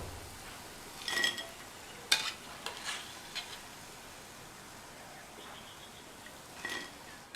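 Raw banana pieces deep-frying in oil give a quiet, steady sizzle, punctuated by a few sharp clinks and scrapes of a utensil against the pan.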